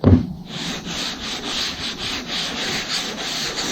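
A hand sanding block rubs over cured 2K primer on a hail-damaged car panel, making steady, rhythmic back-and-forth scraping strokes at close range after a sharp initial contact.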